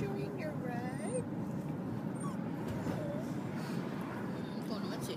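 A puppy whimpers with thin, wavering cries during its first car ride, set against steady road rumble and people talking nearby.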